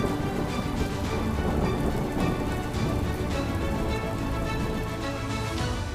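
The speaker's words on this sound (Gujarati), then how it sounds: "તાપીના ઉચ્છલ તાલુકામાં ધોધમાર વરસાદ વરસ્યો છે" Heavy torrential rain pours down in a dense, unbroken roar of drops hammering surfaces, loud and close, with low rumbling beneath and no speech.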